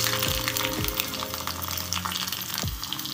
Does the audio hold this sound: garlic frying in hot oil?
yes